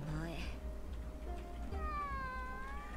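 A cat meow from the video game SAO Alicization Lycoris, with short mewing calls rising and falling over quiet game background, sounding oddly human-like.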